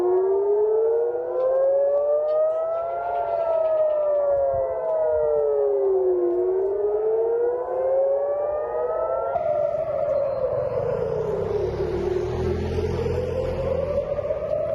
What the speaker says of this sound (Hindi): तेल अवीव में इस वक्त सायरन की आवाज आप सुन सकते हैं